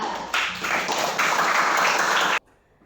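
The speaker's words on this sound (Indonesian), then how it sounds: "Tepuk tangan untuk kelompok 3." A classroom group claps for a student team, a dense burst of applause that jumps louder after a moment, holds steady for about two seconds and then stops abruptly.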